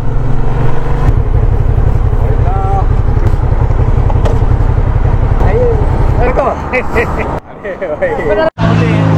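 Yamaha FZ motorcycle riding on the road, its engine droning steadily and loudly with wind rush, then easing off near the end while a rider talks throughout.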